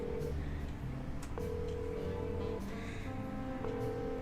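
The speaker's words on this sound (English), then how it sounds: "this is definitely an old phone." An old rotary telephone dialed in the detective game Chicken Police: Paint it Red, a series of short clicking pulses and tones over quiet game ambience, fairly faint.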